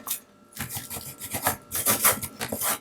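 Rubbing and rasping strokes as material is burnished down onto a Dollar Tree Christmas ornament, a quiet pause followed by a steady run of close, scratchy passes with no talking.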